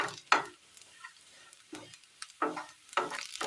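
Grated coconut being stirred and fried in a pan for a Kerala curry: a series of short, irregular scraping and rustling strokes with a light sizzle between them, close and fairly clear.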